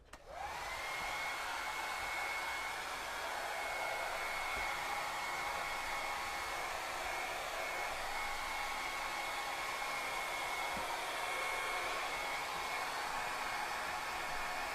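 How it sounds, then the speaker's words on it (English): A hair dryer blows hot air over a fresh drywall skim coat, starting abruptly and then holding a steady, even whirring hiss with a faint tonal whine throughout, with no talking. "I'm going to apply the hair dryer again to it"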